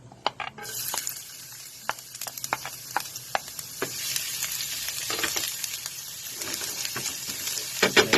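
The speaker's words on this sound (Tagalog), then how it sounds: "We'll just put a few first of the olive oil because we're going to saute the ginger." Ginger sautéing in olive oil in a pan, a steady sizzle with scattered sharp pops and crackles running throughout, close and fairly loud with no talking.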